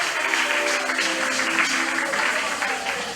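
A church congregation applauds in a steady, dense patter of many hands clapping, with voices faintly mixed in beneath, sustained and fairly close throughout.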